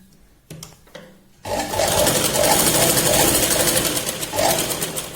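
A sewing machine runs steadily, stitching the shoulder seam of a katori blouse; after a few short bursts it settles into a loud, continuous whir lasting several seconds, with no talk.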